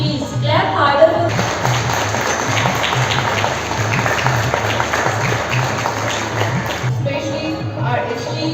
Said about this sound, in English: please clap harder